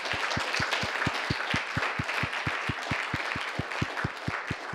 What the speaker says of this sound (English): I think she deserves a separate round of applause